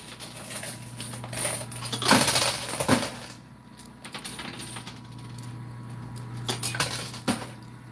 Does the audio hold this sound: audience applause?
no